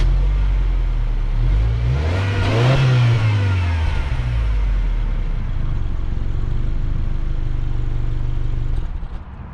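A 2021-2022 Subaru Outback Touring XT's 2.4-liter turbocharged flat-4, paired with a CVT, accelerates on a night drive, its droning engine tone climbing steadily then dropping back and settling into a smooth cruise, heard close from inside the cabin.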